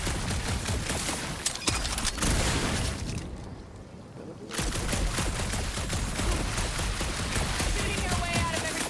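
Sustained gunfire and explosive blasts fill a noisy battle in Marvel's Guardians of the Galaxy. A brief lull breaks the dense din, and voices mix in under it.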